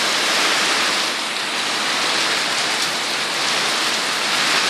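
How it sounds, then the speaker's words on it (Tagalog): Heavy rain pours down steadily, a dense, loud, continuous hiss of water drumming on surfaces with no letup. "Bigla na bumuhos yung ulan, biglaan."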